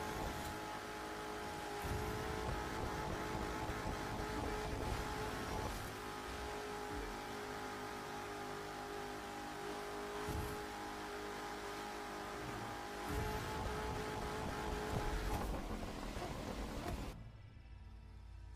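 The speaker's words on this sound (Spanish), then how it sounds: "ahí está la prueba de la carrera con el Corvette C7 ZR1" A Corvette C7 ZR1 races in a video game, its engine droning steadily and revving through repeated gear changes, loud and continuous until it cuts off near the end.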